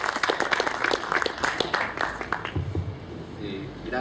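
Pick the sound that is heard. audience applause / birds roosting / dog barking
audience applause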